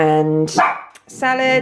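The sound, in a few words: dog barking in the background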